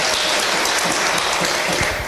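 Sustained applause from a seminar audience at an indoor business presentation, steady dense clapping filling the whole moment at a constant level with no voices over it.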